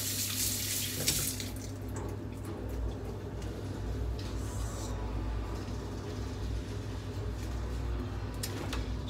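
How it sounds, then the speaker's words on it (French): Water from a kitchen tap runs steadily while hands are rinsed under it, a continuous close rushing splash that lasts throughout. "Je vais juste me rincer les mains."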